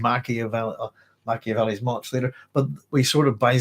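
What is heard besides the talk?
None of the usual background noises is heard.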